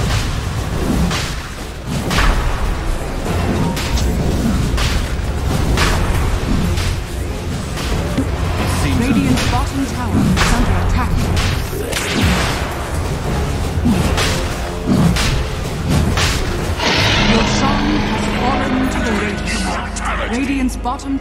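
Dota 2 match with a bottom tower under attack and falling amid repeated booms, whooshes and thuds of combat, dense and continuous, with speech over the action throughout.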